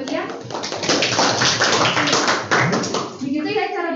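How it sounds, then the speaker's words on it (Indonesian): Students in a mathematics micro-teaching classroom clap together in a dense, lively burst, with young voices talking over it throughout. "Ini tepuk tangan buat ya."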